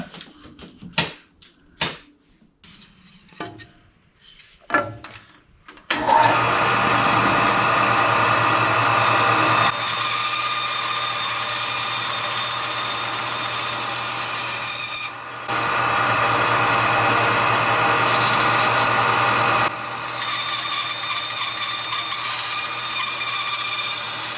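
A few scattered knocks and handling sounds come first, then a power tool starts loud and droning, cutting pieces freehand for a log cabin fireplace facelift. It runs continuously with slight shifts in pitch and level.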